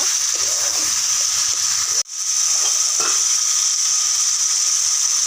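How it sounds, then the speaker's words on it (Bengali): Fried potatoes being sautéed in spice masala in a pan give a loud, continuous close-up sizzle with a brief drop in sound midway and soft stirring underneath. "এতে এবার এই আলু ভাজাটা দিয়ে দেব, দিয়ে আর একটু ভালো করে কষিয়ে নেব।"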